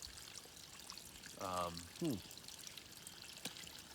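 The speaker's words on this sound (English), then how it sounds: "then you just pump, and the water comes through the center there" Water is pushed through a wilderness pump filter with a clay filter element, giving a steady, faint trickling hiss throughout, broken by two short squeaky tonal strokes midway.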